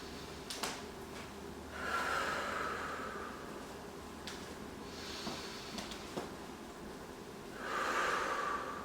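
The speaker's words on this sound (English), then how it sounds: "Taking a few breaths here." Slow nasal breaths drawn in and pushed out during a yoga pose, close and fairly soft, with two louder exhalations spaced several seconds apart and no talking.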